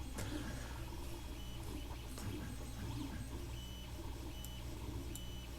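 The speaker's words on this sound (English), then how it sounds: "So what I'm printing right now is a benchy" A 3D printer works through a Benchy boat model, giving a steady, faint mechanical whir with thin tonal motor whines and small stepping sounds running throughout, with no talking.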